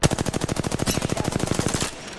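An automatic weapon fires a rapid, evenly spaced burst of about twenty loud shots in the Apex Legends video game, then cuts off and leaves a brief trailing echo.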